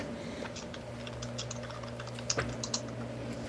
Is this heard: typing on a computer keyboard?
yes